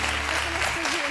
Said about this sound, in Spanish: Un aplauso para la familia de Titus.